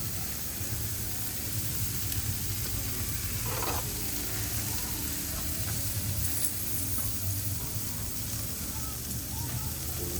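Food sizzles steadily on a hot outdoor grill during a Memorial Day weekend cookout, a continuous crackling hiss that runs the whole time with no breaks and little change in level.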